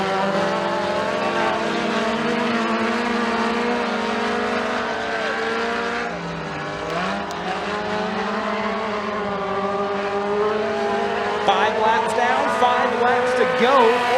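Kids' mini stock cars race around the McKean County Raceway track, engines droning steadily at a distance while an announcer talks continuously over the race.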